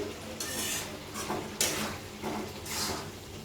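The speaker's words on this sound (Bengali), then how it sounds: "সেই জন্য মাঝে মাঝে একটু নাড়াচাড়া করে দিচ্ছি।" A spoon stirs a coconut and sugar syrup mixture for coconut ladoo in a pan, giving repeated scraping sweeps over a steady background hiss, close by with no speech.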